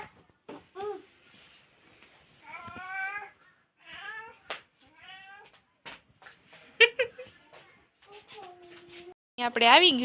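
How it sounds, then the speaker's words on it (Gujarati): A cat meows repeatedly at close range, several drawn-out mews with short gaps, and a voice can be heard between them. "મીંદડી આવી"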